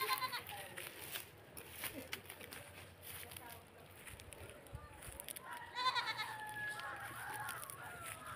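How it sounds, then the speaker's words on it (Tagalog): Goats bleating on a family farm in Bulacan, several wavering calls rising over a steady outdoor background, with people talking nearby and birds faintly audible. "Ito po yung kambing."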